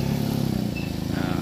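A three-wheeled motor cart hauling oil palm fruit runs close by with a steady, throbbing motorcycle-like engine putter, slightly varying in pitch.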